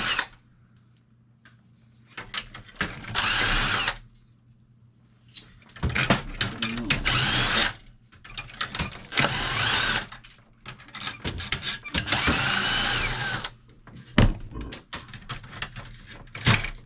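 Power drill backs screws out of a Canon printer being scrapped: several close whining bursts of varying length, separated by quiet pauses and small handling noises.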